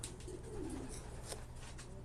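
Soft, low coos from two young pigeons come through a steady background hum, faint and close by, with no talking.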